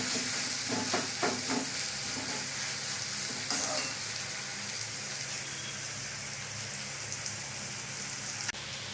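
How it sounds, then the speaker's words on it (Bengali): Onions sizzle and fry in oil in a pan, a continuous close hiss with some stirring scrapes early on and a sudden small drop in level near the end, with no talking. "পেঁয়াজটা লাল লাল করে ভাজা হয়ে গেছে।"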